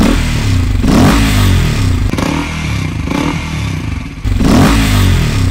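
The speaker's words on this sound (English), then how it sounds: "It kinda sounds like a turbo, but it has this humming or bassy sound after revving the engine." A Husqvarna Svartpilen motorcycle with a DIY modified airbox revs its engine up close and loud, its intake roaring and humming in a steady bassy drone with two or three rising rev swells and no talking.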